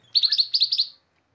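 A mini green leafbird (cucak hijau mini) in an aviary gives a quick burst of about seven bright, high chirps in rapid succession, clear and close against a quiet background.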